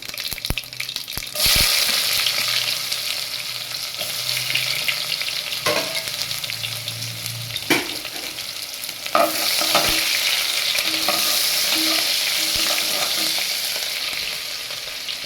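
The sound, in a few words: onions frying and being stirred in oil for tomato dal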